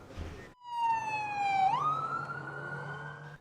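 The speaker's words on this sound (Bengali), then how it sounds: "রয়েছে একাধিক অ্যাম্বুলেন্স ও ফায়ার সার্ভিসের গাড়িও।" Emergency vehicle siren wailing on a street in Vancouver, Canada, at a police scene with ambulances and fire engines, a single rising and falling tone that sweeps down then jumps up, loud and close.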